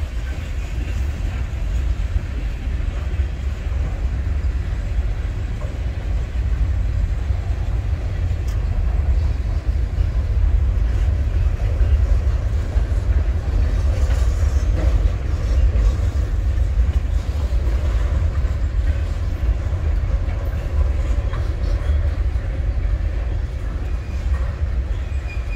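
Train 610 rumbles past at length near Willimantic, a steady loud low roar with faint rattling of cars throughout, no talking.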